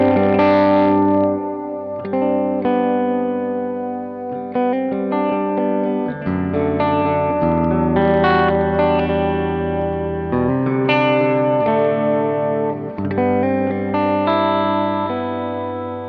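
Electric guitar through a pedalboard with a large hall reverb preset, sustained effected chords and notes ringing out with a spacious, blooming tail, loud and continuous with no talking.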